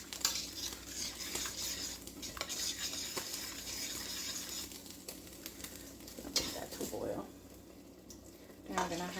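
A spoon scrapes and clinks around a hot frying pan whose heat-warped, rounded bottom makes it spin on the stovetop. A steady low sizzle runs beneath the irregular metallic stirring throughout.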